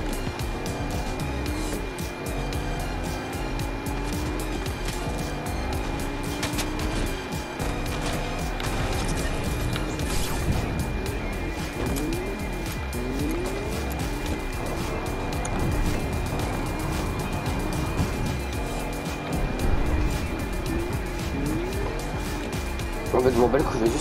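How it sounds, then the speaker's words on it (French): A car in the video game Fortnite, just refuelled, drives and revs continuously with tyre noise and engine drone, under steady French-speaking commentary. "je vais juste tester la voiture"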